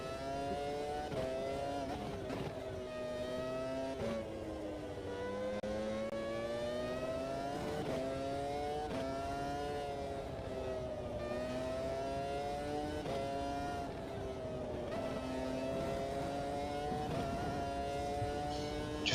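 V10 race car engines scream through high revs in the Automobilista 2 racing game at Barcelona, a continuous loud wail that climbs and drops with gear changes and corners throughout.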